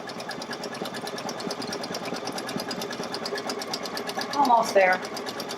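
A sewing machine stitching a satin stitch at increased speed while making a table runner, its fast steady motor whir running throughout beneath a brief spoken remark, with a louder surge near the end.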